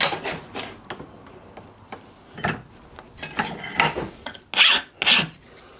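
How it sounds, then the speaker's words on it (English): A hand file rasps across the angled machined face of a mechanical lubricator for a steam engine, giving several short, separate scraping strokes with pauses between them, close and fairly loud. "Machine face is at angle and the file will quickly sort that out."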